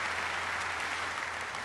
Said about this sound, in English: give our product team a great round of applause